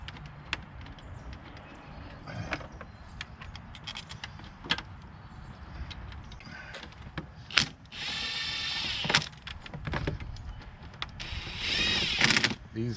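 Bolts being fitted into a Ford 3.5 intake manifold, giving scattered close metallic clicks, ratcheting and small clanks of hardware, with a busier stretch of mechanical rattling toward the end.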